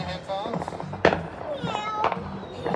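A weasel bomb firework goes off during a Fourth of July celebration, giving a sharp burst near one second and another pop around two seconds, with excited voices talking over the noise throughout.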